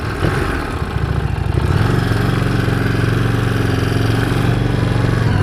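A 2017 Harley-Davidson Street Rod pulls away, its V-twin rising from a lumpy idle into a steady, loud, throbbing drone heard close up, with no talking.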